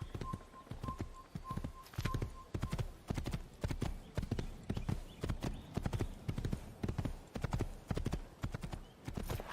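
Horse hooves clip-clop in a steady, rhythmic gallop throughout a scene from the video game Assassin's Creed, close and prominent, with a brief whistle-like tone near the start and no talking.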